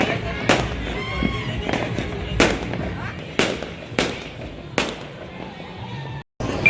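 Firecrackers burst outdoors in a festive, Diwali-like setting beside a winter cooking fire: about six sharp, loud bangs spaced roughly a second apart over a steady background hum.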